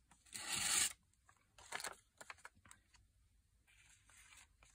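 Paper being cut for a vintage Christmas folio, a loud rasping slice near the start followed by softer, scattered snips and rustles in a quiet room.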